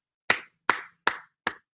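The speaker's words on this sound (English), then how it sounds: "This is my round of applause for the internet sleuths" Four sharp, single hand claps at an even pace, close and dry with brief gaps of silence between them, a lone person clapping rather than a crowd.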